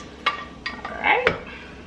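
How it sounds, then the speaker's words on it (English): Red beans and sausage being stirred in a cooking pot: a few scraping clinks of a utensil against the pot, with a soft sizzle from the simmering pot, close and moderately loud. "I'm gonna give this a stir"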